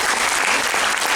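A burst of audience applause after a lecture on prehistoric humans, many hands clapping steadily and fairly loudly for a moment, with no one speaking over it.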